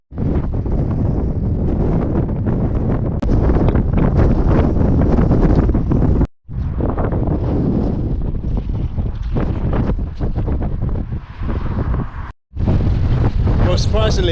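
Loud, constant storm wind roaring and buffeting against the microphone on a coastal hike near Portsmouth and Hayling Island, with a deep rumbling undertone, cut off by two brief silent gaps.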